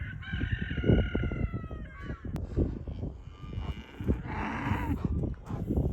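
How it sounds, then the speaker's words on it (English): Cattle mooing on a farm as the cows arrive, with long lowing calls over farmyard noise and what sounds like fowl nearby, fairly close and continuous with no talking. "And here come the cows and Bo."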